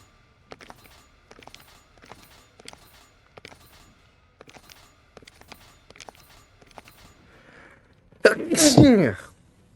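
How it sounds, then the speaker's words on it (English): One loud, explosive sneeze lands abruptly near the end, close and forceful, after soft game footsteps and faint clatter over a quiet background. "that was a big sneeze"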